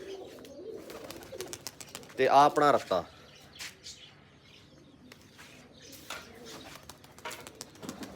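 Soft pigeon coos and a brief burst of flapping wings near the microphone, with someone talking intermittently over the birds.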